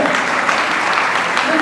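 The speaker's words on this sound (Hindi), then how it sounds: "एक बार तालियों की गड़गड़ाहट हो जानी चाहिए।" A dense, loud burst of audience applause fills a hall at a community talent awards ceremony, continuous clapping with no pause across the short stretch.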